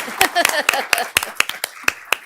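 At a county board of supervisors meeting, a small group of attendees gives a few sharp, slow claps spaced out in an uneven rhythm, close by, with a person talking faintly between the claps.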